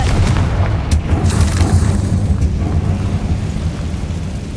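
A Confringo spell bursts in Hogwarts Legacy with a loud, booming explosion that rumbles and crackles continuously, dense and close, with no talking.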